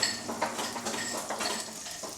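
Bacon sweating in olive oil in a pan, a soft steady sizzle with a few light metallic clinks of utensil against pan, heard briefly without talk.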